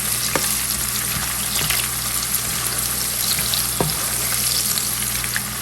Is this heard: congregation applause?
no